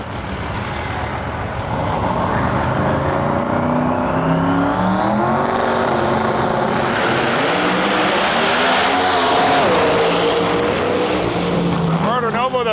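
Pro Mod drag race cars make a pass at the Snowbird Outlaw Nationals, a loud, continuous engine roar with rising and falling pitch sweeps that fills the whole stretch.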